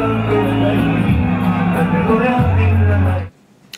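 A dense crowd surrounds a presidential motorcade after a rally in Haut-Katanga, a loud steady hubbub of many voices, shouts and whoops with vehicle rumble underneath, cutting off abruptly near the end.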